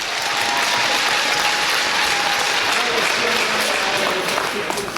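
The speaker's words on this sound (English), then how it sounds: "Please, a round of applause for Jennie Halstead." Audience at a breast cancer support partnership event breaks into loud, steady applause for an executive director, dense clapping sustained evenly from start to finish.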